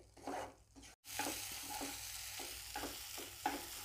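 Masala frying in oil in a pan for a spicy wild-greens stalk dish, with rhythmic scraping strokes of stirring over a soft sizzle and one brief drop-out, no voices.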